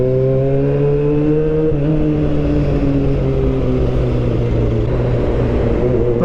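A Honda CB400 Super Four inline-four motorcycle engine revs loud and close, a steady harmonic drone that rises and falls slightly in pitch with the throttle, with no talk over it.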